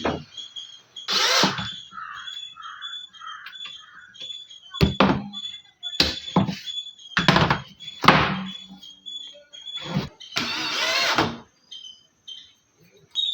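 Repeated short bursts of a power drill whirring into a board for an LED display, separated by pauses with clunks and handling noises, close by.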